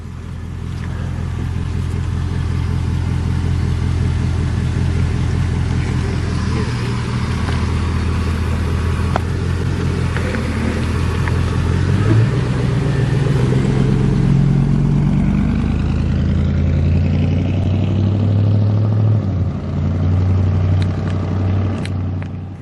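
A 2001 Chevy 1500 pickup truck with newly replaced front wheel bearings drives on a test run, its engine rumbling steadily and close, swelling as it accelerates, with no talk.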